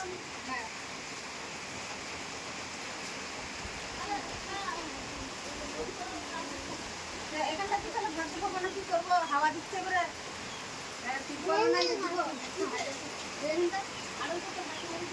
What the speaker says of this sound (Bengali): কঠিন বৃষ্টি হচ্ছে